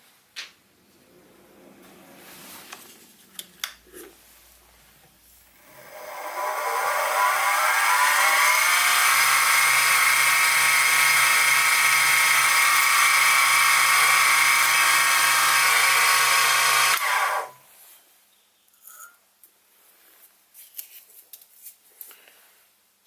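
A drill with a 3.3mm bit whines into metal for about ten seconds, a steady high-pitched grinding that rises slightly as it bites, framed by quiet clicks and handling noises before and after.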